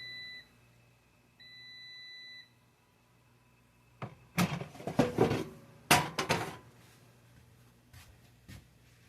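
An air fryer sounds two steady electronic beeps after preheating to 330 degrees, then dishes and utensils clatter and bump nearby in a home kitchen; no talking.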